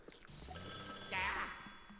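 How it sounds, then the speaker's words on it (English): A telephone rings in the haunted hotel of Luigi's Mansion 3, a faint trilling bell that swells briefly over soft background game sounds. "Me whenever the phone rings."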